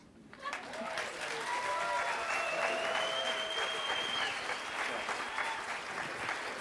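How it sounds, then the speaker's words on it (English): Applause from an audience at a Detroit story slam, a steady wash of clapping that starts abruptly and holds at full strength, with faint voices and cheers mixed in. "Big round of applause for Eddie"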